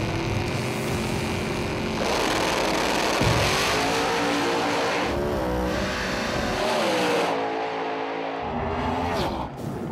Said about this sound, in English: It's gonna be a great drag race